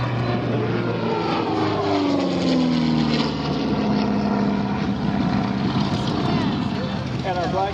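Steady droning roar of a propeller airplane engine at the EAA AirVenture 2022 airshow in Oshkosh, Wisconsin, with pitch sweeping gradually as it passes, loud and continuous under crowd noise.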